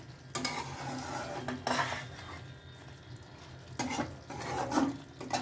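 Cauliflower curry with garam masala, cashews, raisins and poppy seed being stirred in a pan, heard as quiet bursts of spoon scraping and soft sizzling with pauses between strokes and no voices.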